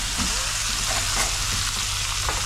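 Mutton being stirred as it fries in a pan or cooker, a loud, dense sizzle with a few scraping strokes of the spoon through it, continuous and close, with no talking.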